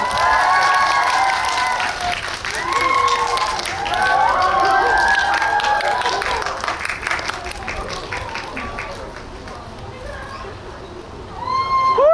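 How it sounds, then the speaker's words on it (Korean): Loud crowd applause and cheering fill a hall at a film talk event as the director and actors of Confidential Assignment 2: International are welcomed on stage, fading briefly before a burst of high-pitched shrieks at the end. "큰 박수로 맞이해주세요."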